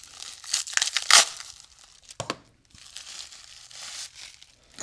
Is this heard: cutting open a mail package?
yes